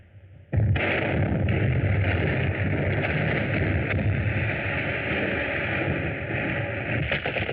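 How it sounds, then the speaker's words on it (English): A sudden underground explosion in an old 1935 jungle adventure film opens with a sharp onset, then a sustained, heavy rumbling roar with a gritty, noisy texture that continues steadily throughout, no voices. "That sounded sounded like an underground explosion."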